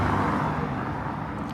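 A bus passes along a town street, a moderate broadband roadway rumble that fades gradually over a second and a half, with no voices.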